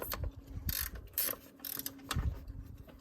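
A ratchet clicks in short close bursts while tightening the alternator belt on a 1998 Toyota Celica with a 3SGE engine, separated by brief pauses and metallic clunks.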